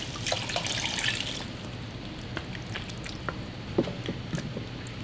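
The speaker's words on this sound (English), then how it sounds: "Now we're going to pour in the broth." Chicken broth poured into a pan of flour-dusted, reduced pan juices for chicken fricassee: a close, steady splashing pour for about a second and a half, settling into a soft bubbling simmer with scattered drips and pops, no talking.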